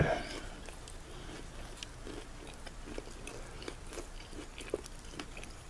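Someone eats a Wilensky sandwich of all-beef bologna and salami, with soft close-up bites and moist chewing recurring in a loose rhythm, quiet and near, with no one talking.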